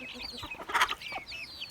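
Chickens fed watermelon rind and cucumber give rapid high peeps and clucks, one louder squawk in the middle, the flock close by with faint movement under the calls.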